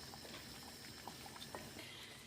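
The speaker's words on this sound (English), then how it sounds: "I'm just now going to leave that for probably just another 5-10 more minutes to simmer away" A pea and potato curry simmers in a pot on a gas hob, soft bubbling and faint popping blips over a quiet, steady hiss.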